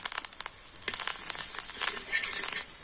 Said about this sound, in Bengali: তেলের মধ্যে আমি একটু কালো জিরে দিয়ে দিচ্ছি দিচ্ছি কাশ্মীরি লঙ্কা গুঁড়ো